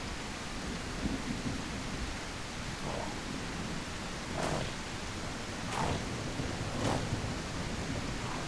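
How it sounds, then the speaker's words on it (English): Steady rain hisses at night throughout while several distant rumbles and cracks of thunder roll in at intervals, in the game The Isle Evrima. "Night falls along with the rain."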